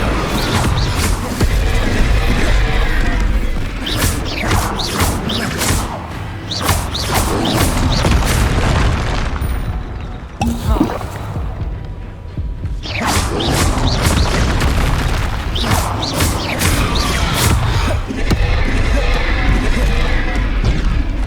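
Incendio fire spells burst in Hogwarts Legacy combat, loud booming blasts and crashing impacts piling up almost nonstop, with a brief lull in the middle before the explosive clamor resumes.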